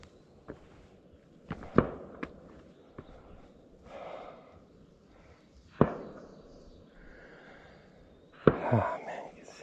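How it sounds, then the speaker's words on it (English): Several sharp, distant gunshots echo across open rural country, scattered irregularly with quiet stretches between, faint and isolated with no talking over them. "Here's somebody shooting, I guess. Down there."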